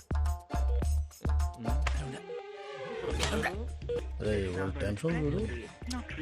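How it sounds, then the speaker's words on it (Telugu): Rapid electronic dial tones beep in a steady rhythm, then a call tone sounds while a voice talks over the line. "ఈ ఫోన్ ఒకటి కలుస్తలేదు"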